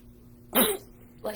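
A single sharp, explosive sneeze bursts out, followed a moment later by a short second burst, against a quiet background.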